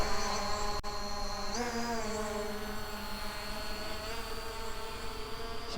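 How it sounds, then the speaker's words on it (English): A ZLRC SG906 Pro 4K drone climbing into calm, nearly windless air outdoors, its propellers giving a steady high whine that shifts pitch slightly as it rises, continuous and fairly near. "So let's take the drone up."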